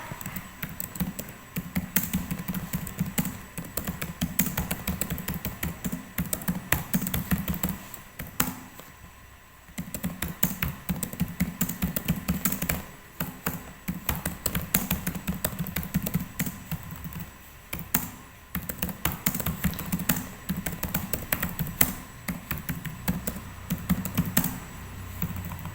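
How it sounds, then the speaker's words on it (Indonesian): Fingers type on a computer keyboard in a continuous, dense patter of close key clicks with brief pauses, and no voice is heard. "di sini kita ketik lagi pertanyaan yang telah kita buat"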